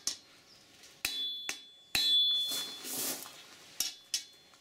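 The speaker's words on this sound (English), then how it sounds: "Flipping both sides and hammering at an angle, drawing out the heel" Hot steel blade being hammered on an anvil corner to draw out the heel: sharp metallic strikes in an irregular rhythm, about six close ringing blows with brief decays between them and no talk.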